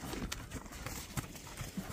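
A horse's hooves clip-clop in an uneven, fairly quick rhythm of distinct thuds, heard nearby over a faint background hum with no clear talk.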